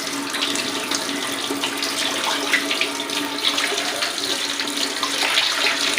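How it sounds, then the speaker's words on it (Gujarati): Chopped leafy greens are rinsed under a kitchen tap, with a constant loud gush of running water and faint splashing as they are washed, and no talking. "પછી ભાજીને ચોખ્ખા પાણીએ ધોઈ નાખવાની."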